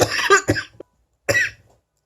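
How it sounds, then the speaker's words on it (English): A person coughs a few times in quick succession up close, then one more short cough after a brief pause, with no talking. "Excuse the cough."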